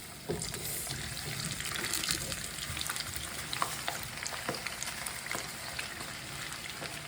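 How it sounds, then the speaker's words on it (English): Potatoes sizzle and crackle steadily in a pan of hot oil, a constant frying hiss with scattered pops, heard up close and without voices. "I'm not deep frying these, so I'm gonna dump my potatoes in here."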